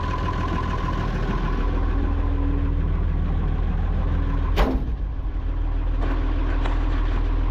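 A Perkins 354 diesel engine idles steadily at close range, a continuous low rumble with a brief louder knock partway through and no talking.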